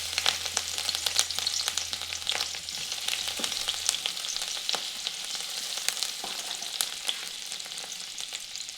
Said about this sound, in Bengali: তেলটি গরম হয়ে যাওয়ার পর এখানে দিচ্ছি আদা